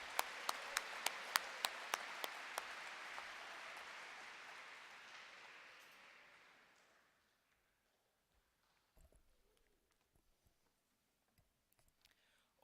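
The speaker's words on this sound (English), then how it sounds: "Let's give our sponsors another round of applause." Audience applause honoring sponsors at the SkillsUSA Nebraska opening ceremony, dense and steady for about six seconds with a few sharp claps up front, then fading to near silence with scattered faint shuffles and clicks.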